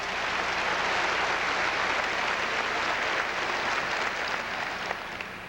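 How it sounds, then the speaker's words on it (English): Sustained applause from a church television audience fills the space, dense and steady throughout, easing slightly toward the end with no talk over it. "When you applaud that, I'll sign you."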